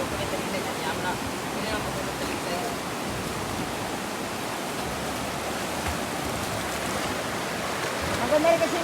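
A river swollen and discoloured after several days of rain rushes past in a steady, broad wash of water noise, continuous and moderately loud without pauses, with no voices over it.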